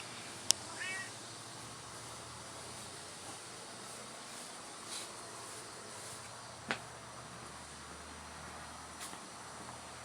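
A cat named in a June garden gives a few short, faint meows spread across the clip, heard alone over quiet outdoor background noise.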